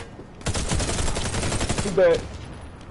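Grenade blast amid a rapid burst of gunfire in a first-person shooter video game, loud and dense for about two seconds, with players talking over the action.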